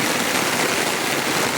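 Heavy rain pours steadily onto a road, a dense, continuous hiss of close downpour with no pauses and no voices.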